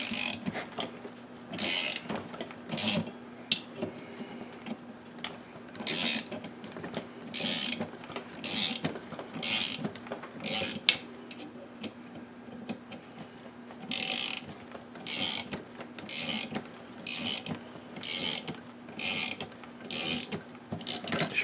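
A bearing being wound off a Husqvarna 562xp chainsaw crankshaft with a ratcheting tool: a loud, close series of sharp clicking ratchet strokes in a steady repeating rhythm over a low mechanical hum.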